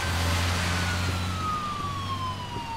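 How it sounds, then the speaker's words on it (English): Police car siren wailing in The Evil Within video game, a sustained gliding tone over a low engine rumble, loud and steady for a few seconds with no speech. "Okay, we're in a cop car."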